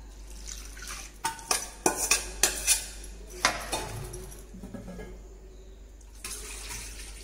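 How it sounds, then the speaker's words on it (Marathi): Water poured into dal and rice in a pot, with a run of sharp clinks and knocks of a cup or vessel against metal followed by softer splashing and sloshing, close and without talk. "म्हणून मी 6 वाट्या पाणी घालणार आहे"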